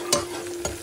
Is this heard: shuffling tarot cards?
no